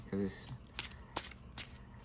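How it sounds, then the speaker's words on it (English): Trading cards in rainbow-reflective sleeves are shuffled by hand, giving a few quick, smooth riffling bursts close by. A voice talks over the start. "the shuffle is actually so smooth"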